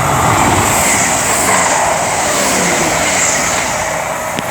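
A train rolls through Ashchurch for Tewkesbury station, a loud, close, continuous roar of wheels and rail noise with faint clatter, heard alone.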